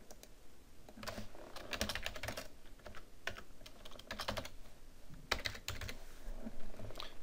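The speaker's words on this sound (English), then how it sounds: "So I will go back to EasyBib" Quick, uneven bursts of clicking keystrokes on a computer keyboard, close and fairly quiet, with short pauses between runs of typing and no voices.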